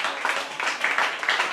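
A church congregation in El Salvador claps together in a loose, rhythmic pattern of soft bursts of applause at moderate distance.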